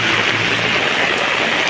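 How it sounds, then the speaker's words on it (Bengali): Heavy rain pouring onto a flooded colony street, a dense, unbroken hiss of water that stays steady and loud throughout the short stretch. "প্রচুর বৃষ্টি হচ্ছে"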